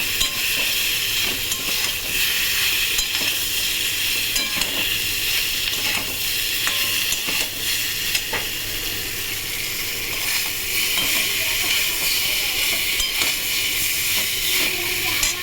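Green chillies hit a hot pan of frying eggplant and hilsa fish, producing a loud, continuous close sizzle and hiss with faint stirring.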